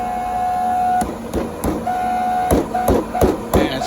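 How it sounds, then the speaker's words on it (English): The blower of an Eagle Power 464 sweeper runs while fouled with debris, putting out a steady whine and hum broken by repeated irregular knocks and clattering bursts, loud and close. "So that's the blower"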